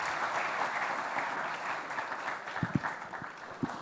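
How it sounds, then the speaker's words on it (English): An audience at a tech talk welcomes a speaker with a sustained round of applause, a dense wash of clapping that thins out toward the end, with a few louder claps standing out. "welcome with a loud round of applause for her"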